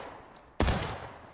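Musket gunfire in the Civil War video game War of Rights: one loud, booming shot that rolls off into a long noisy tail over steady background battle ambience.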